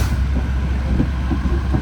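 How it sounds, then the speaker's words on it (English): A loud, continuous low rumble and rush of a passing Amtrak California Zephyr passenger train, dense and steady with heavy wheel and track noise up close. "Amtrak train number 5, the California Zephyr, rushing past here"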